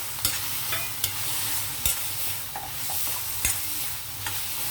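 Kabuli chickpeas go into a pan of frying ginger and garlic, a steady hissing sizzle broken by sharp spatula scrapes and taps, close and moderately loud, no talking.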